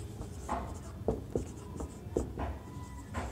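A pen scratches on paper during a physics lesson on rigid body rotation, in short, close, quiet strokes at an uneven rhythm.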